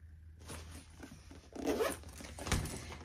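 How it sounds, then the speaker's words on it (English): A zipper is pulled open on a hidden pocket of a convertible handmade bag, a close, scratchy ratcheting run in a few strokes, heard alone. "Under here is a hidden zipper pocket."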